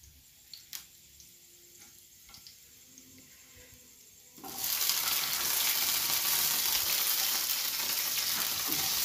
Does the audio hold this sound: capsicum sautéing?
yes